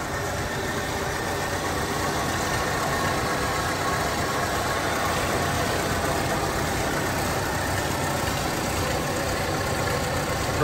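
A 1979 Mercury Capri RS Turbo engine idles steadily throughout, a continuous low rumble with a smooth, even hum and no talking.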